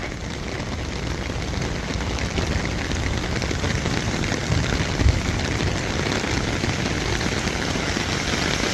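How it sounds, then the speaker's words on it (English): Steady, dense rain falls on surfaces in Tel Aviv on the first rainy day of the year, a close, even hiss of drops that lasts throughout with no talking. "This is the first rainy day of the year in Israel."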